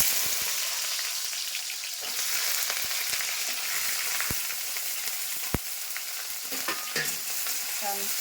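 Mixed vegetables fry in hot oil in a heated kadai for a breakfast dalia khichdi, giving a steady, close sizzle with occasional sharp clicks from stirring and no voices.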